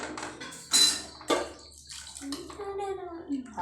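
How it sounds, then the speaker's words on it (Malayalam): Water splashes and gurgles as it is poured into a pot of prawn curry soured with kudampuli, loud bursts near the start that settle into a steadier trickle, with a voice talking over it. "ആവശ്യത്തിന് വെള്ളം ഒഴിക്കുക"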